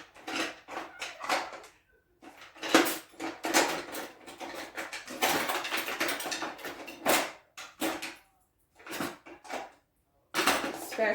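Kitchen utensils clatter and clink while someone rummages for a spatula, with bursts of metal and wooden knocks, drawer-like rattles and short pauses, close and fairly loud.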